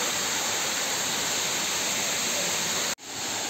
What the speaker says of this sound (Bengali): নেচার পার্কের মধ্যে এই ফলসটা হচ্ছে সামুজি ওয়াটারফলস।